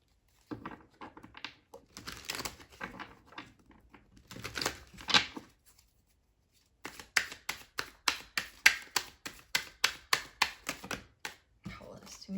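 Oracle and tarot cards being shuffled in quick, crisp bursts of riffling and tapping, close and fairly quiet, with brief pauses between rounds.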